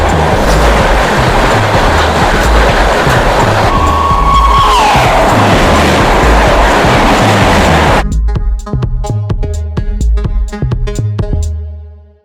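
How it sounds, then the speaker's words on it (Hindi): A train pulls into a station with a loud, heavy rumble, a brief squeal of brakes, then slows to rhythmic clickety-clack wheel beats over rail joints before fading out. "दोस्तों ट्रेन हमारी आ चुकी है"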